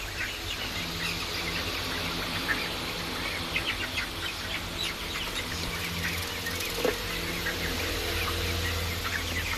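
Hens in a farmyard flock on a hot day clucking continuously, a dense steady chorus of overlapping calls and squawks with scattered sharper cries, fairly close and without speech.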